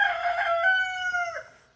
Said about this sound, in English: My noisy rooster.